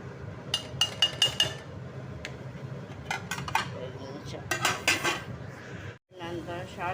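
Turmeric being stirred into a tomato and onion curry, a spoon clinking and scraping against the metal pot in quick clustered bursts, close and fairly loud, with faint voices in the background.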